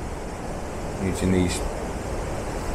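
Waterfall on the Elidir trail in the Brecon Beacons, a continuous broad rushing roar at steady level, with someone speaking briefly over it in the middle.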